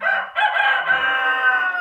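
A cartoon rooster crows loudly and close, one long drawn-out cock-a-doodle-doo call with a brief break near its start, heard alone without talk.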